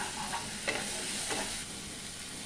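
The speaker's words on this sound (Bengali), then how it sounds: "পুরো মশলাটা ভালো করে কষে নেব যতক্ষণ না তেল ছাড়া ছাড়া হচ্ছে।" Spice masala stir-fried in oil with a little sugar added, a close hiss of frying with two or three sharp spatula scrapes that then settles to a quieter sizzle, no talking.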